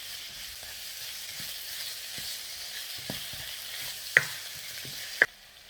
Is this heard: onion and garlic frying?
yes